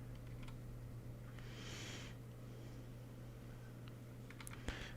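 Computer keyboard typing while coding in Neovim, faint scattered clicks and key presses over a steady low electrical hum in a quiet room.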